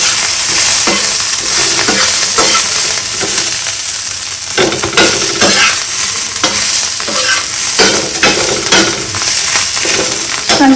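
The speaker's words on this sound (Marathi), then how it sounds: "आणि नंतर मग छान परतून घ्यायचं आपल्याला." Gavran thecha sautéing in a pan, loud and close: a spoon scrapes and knocks repeatedly against the metal over a constant frying sizzle, with no talking.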